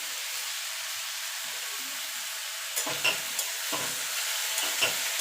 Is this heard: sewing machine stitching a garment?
no